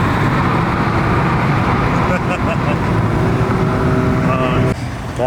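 An Audi S3, tuned to 500 hp, and a VW GTI with a Vortex turbo race past on a road, their engines a loud continuous roar under excited nearby talk, ending with a sharp drop as they pull away.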